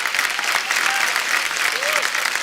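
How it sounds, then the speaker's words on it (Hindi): A studio audience applauds four guests on a Hindi comedy talk show after a dance performance, with dense, steady clapping throughout and faint voices beneath. "हमारे चारों मेहमानों के लिए जोरदार तालियां हो जाएं।"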